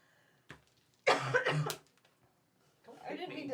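A single throat-catching cough, then a short burst of harsh, loud coughing fits, with talk resuming afterward.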